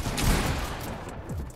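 Brief rapid gunfire in a Fortnite match, a dense crackling fusillade lasting under two seconds at moderate loudness.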